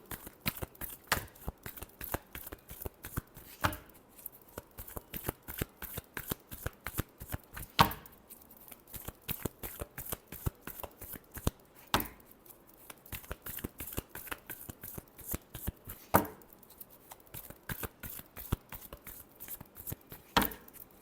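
Tarot cards are shuffled continuously and closely, a steady rapid riffle of crisp slaps and flicks with brief pauses between passes.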